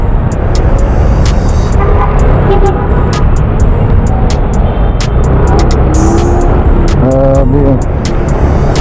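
Heavy road traffic grinds along Kennon Road in Baguio, a loud, close, continuous engine rumble with passing vehicles, a few short horn-like tones and sharp repeated clicks throughout.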